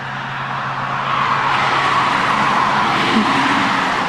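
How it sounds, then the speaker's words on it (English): Steady traffic on a busy road heard from a front porch, a continuous loud wash of cars passing close by with no pauses and no talk. "Which has so many cars, and it's always loud up here in the front porch."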